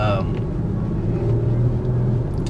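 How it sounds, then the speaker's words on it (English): A low, steady exhaust drone from an Infiniti Q50 rumbles throughout, with a voice talking over it near the start. "You can hear a little bit of that exhaust tone."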